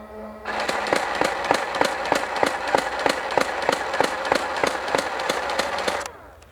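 Nerf N-Strike MEGA Mastodon blaster firing full auto from shoulder height, a rapid, steady train of about fourteen loud, evenly spaced shots over a continuous motor whir, ending abruptly.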